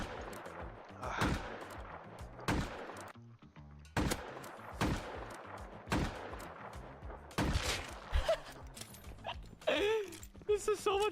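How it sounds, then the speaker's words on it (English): Rapid gunfire from a video game shootout at a rooftop, repeated sharp bursts spaced a second or two apart, loud and close, ending in denser clattering shots. "They're shooting at them on the roof"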